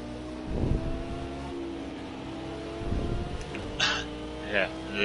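A V10 race car engine in a racing video game at Spa drones steadily with a low harmonic whine, surging in a couple of short revving bursts, with brief higher-pitched squeals near the end.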